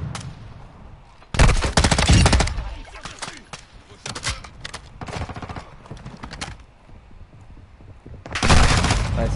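M13 rifle fire in the video game Warzone comes in loud, close automatic bursts, several long strings of rapid shots separated by short pauses, with a voice talking between them.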